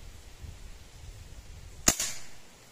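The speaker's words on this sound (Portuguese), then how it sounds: "Primeiro disparo, limão do lado esquerdo com o rifle round." An Artemis M25 PCP air rifle firing a single 5.5 mm pellet outdoors at a lemon about 50 metres away, a sharp crack after quiet room tone, followed by a brief fading tail.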